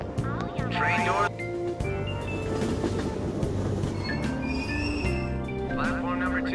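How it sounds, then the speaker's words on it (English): A subway train door in Persona 5 Royal at Aoyama Itchome station, with a chime and mechanical sliding alongside loud rumbling train ambience and station announcements. "Train door."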